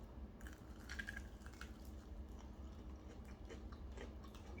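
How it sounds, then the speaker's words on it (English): Crunchy bites of a fried KFC chicken wing in India, with repeated close chewing and biting sounds over a steady low background hum and no talking. "Nice crunch though."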